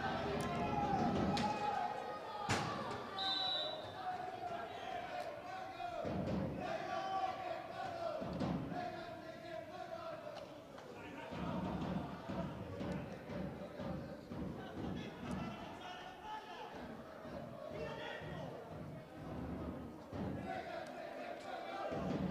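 Breganze supporters waving their red-and-black flag cheer and chant throughout a Serie A2 roller hockey match against Seregno, a noisy indoor crowd with rhythmic thumps and shouts, while a commentator talks over the din.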